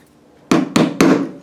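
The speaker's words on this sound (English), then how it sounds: "I pound on it with a hammer" Three sharp hammer blows strike a maple guitar fretboard in a workshop, each a hard wooden thunk with a short decay, spaced evenly and close up.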